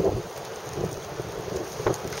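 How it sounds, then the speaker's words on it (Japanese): Strong gusting wind mixed with rain buffets a snowy beech-covered slope at the third station of Mount Daisen in Tottori, a loud rushing roar with buffeting microphone gusts and rain patter. "もうここ結構風が強いですけど、雨まじりで"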